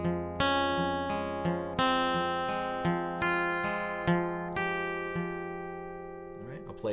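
A clean electric guitar plays a short melodic phrase of plucked single notes over a sustained low note, ringing out at the end with a faint scrape.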